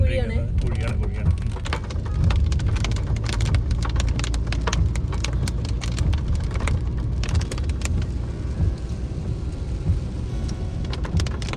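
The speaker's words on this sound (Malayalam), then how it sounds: "കൂടി അന്യായ മഴയിടാ," Heavy rain drums on a vehicle while driving the winding ghat road from Athirappilly to Valparai, a dense steady patter with sharp drop impacts and low road rumble beneath someone talking.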